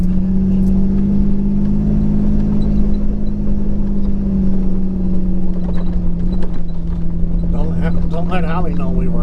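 A car cruising along a road through Tie Rod Canyon on a sunny day: a loud, steady engine and road hum fills the cabin throughout while people chat inside.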